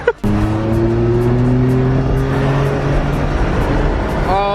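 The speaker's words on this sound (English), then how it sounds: "Maddox just picked me up in the longest named, most confusing Porsche of all time, the 911 Targa 4 GTS" Porsche 911 Targa 4 GTS accelerating hard, a loud engine note rising steadily in pitch through a gear, then a sharp upshift near the end, heard close from inside.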